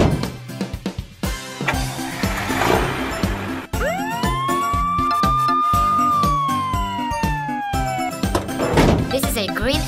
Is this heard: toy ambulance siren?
yes